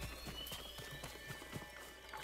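Horse hooves clip-clop in the video game Ghost of Tsushima, a run of light, evenly spaced hoofbeats at moderate distance over a steady ambient bed, with a faint snort near the end.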